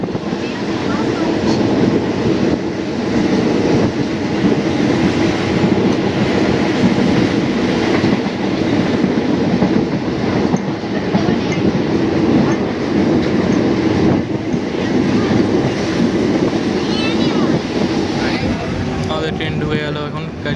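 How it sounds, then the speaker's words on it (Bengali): A local train pulls out of Kazipara station on the Sealdah to Taki Road line, with a steady loud rumble and rattle of the carriages running throughout and voices talking over it. "ট্রেনটা এখন ছেড়ে গেল কাজীপাড়া"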